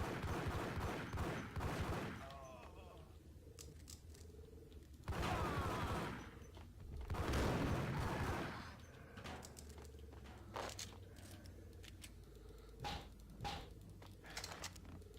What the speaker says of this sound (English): They were just shooting at the wall